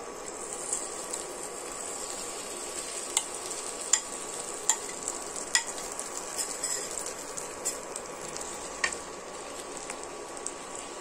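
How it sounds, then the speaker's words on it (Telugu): A bread omelet toasting in a buttered pan gives a soft, steady sizzle, with occasional light scraping and tapping clicks close by. "ఇప్పుడు మనం ఇది ఈ పాన్ లో వేసుకుంటున్నాం"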